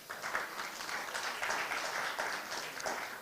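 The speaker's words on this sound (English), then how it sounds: "give him a clap, cheer him up" An audience at a fundraising dinner applauds, producing faint, continuous clapping with no voices rising above it.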